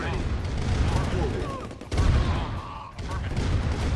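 Constant dense gunfire and explosions from a tank battle in the real-time strategy game Command and Conquer Red Alert, a loud and continuous barrage with a commentator talking over it.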